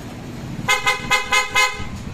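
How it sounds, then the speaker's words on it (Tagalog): A Honda CB650R motorcycle horn gives five short, bright honks in quick, even succession, close and loud over a low background hum. "So businahin natin."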